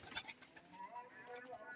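Soft, low cooing of a teddy pigeon close by, brief and faint, with some light rustling and background sounds.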